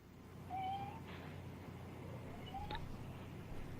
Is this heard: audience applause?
no